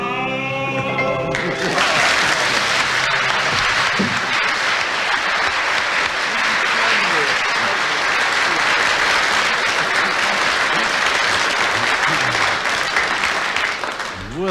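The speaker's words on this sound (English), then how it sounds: "Worthy applause." A studio audience at the 1975 radio panel show My Music bursts into loud, sustained applause right after a sung line and keeps clapping steadily to the end.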